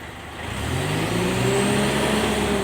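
A Mitsubishi Triton with the 4D56 DI-D common-rail diesel engine, which has a fault, is revved hard. The engine note climbs and then holds as a steady loud drone close by, with no talk.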